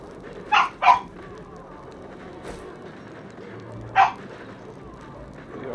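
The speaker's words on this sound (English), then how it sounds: "there's the dogs talking to you guys from the background" Dogs in a back room bark in short yips, two close together, then a single bark a few seconds later, fairly faint against a quiet indoor background.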